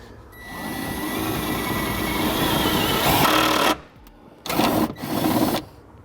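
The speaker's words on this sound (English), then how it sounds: "Now we'll use the provided self-tapping screw. We're going to go right into the body of the vehicle over here." A power driver sinks a self-tapping screw into the body of a 2014 Toyota FJ Cruiser, giving a loud, steady whine for over three seconds and then two shorter bursts after a brief pause.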